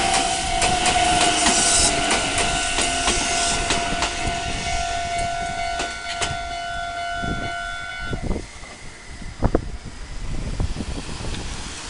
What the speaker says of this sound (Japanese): 竹穴方面から列車がやってくるということですね